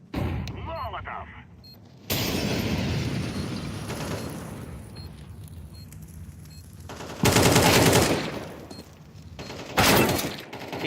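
Gunfire and bursts from a tactical shooter round, where a flashbang and a molotov are thrown, sound as loud, dense, broadband blasts, with sharp bright bursts near the end. Rapid fire continues, and speech is faint beneath it.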